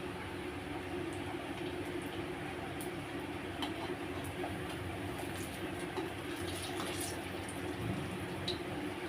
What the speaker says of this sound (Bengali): আমি একটু লাল লাল করে ভেজে নিচ্ছি